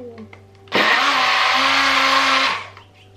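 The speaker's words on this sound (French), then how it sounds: "On a juste qu'à tourner et ça mixe." An electric blender whirs loudly for about two seconds while mixing a homemade hair treatment for very dry kinky hair, starting abruptly and then winding down, with faint sounds before and after.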